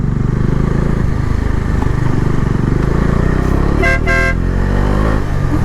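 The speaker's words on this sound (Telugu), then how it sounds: "హార్న్ కొడితే ఎవరైనా భయపడతారు అనమాట" A Bajaj Dominar 400 motorcycle with an updated ECU rumbles loudly and close at idle, then sounds two short, sharp horn blasts in quick succession before the engine carries on alone.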